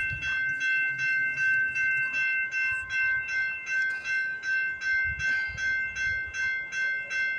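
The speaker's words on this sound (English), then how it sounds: "we got a CPKC westbound train coming down the line" A CPKC westbound freight train approaches on a frigid morning at the Guelph Line crossing in Campbellville, its steady pulsing crossing bell ringing out over a low, faint rumble.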